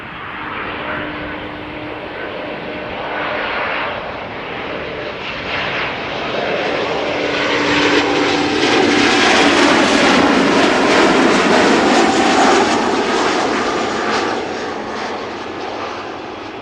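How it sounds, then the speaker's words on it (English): A German Airways Embraer 190 long-range jet, 17 years old and flying for KLM, arriving at Amsterdam Schiphol Airport, its engine roar swelling loud and close, then sweeping past and easing off. "German Airways flying for KLM, flight 1944, arriving from Basel. Embraer 190, an hour precisely on the way."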